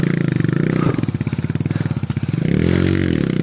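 A motorcycle engine labours up a rough, muddy hill road toward Bukit Tangkit in Gedung Surian, with steady low chugging that rises and falls as the rider throttles over bumps, close and continuous.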